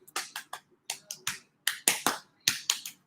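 Finger snaps ring out in an irregular series of about a dozen crisp, close clicks, some in quick pairs, with quiet gaps between them and no voices.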